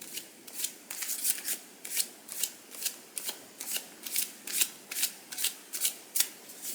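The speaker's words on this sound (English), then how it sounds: "I'm going to shuffle them one more time" Cards are riffle-shuffled repeatedly, a quick series of crisp ruffling bursts in a steady rhythm, close up with no talking.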